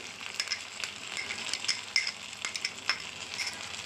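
Cashew paste going into a masala frying in a pan for prawn bhuna, then stirred: a soft, continuous sizzle with light scraping and clinks of a spoon, close and fairly quiet, no voices.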